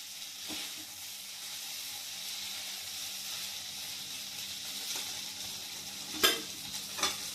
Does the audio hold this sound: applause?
no